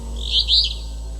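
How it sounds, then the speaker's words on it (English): Wild birds call at sunrise near a brook below a mountain peak: one brief, bright, two-part chirp, moderately close, over a low steady hum. "Wild birds call."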